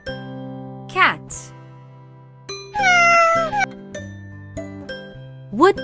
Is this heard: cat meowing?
yes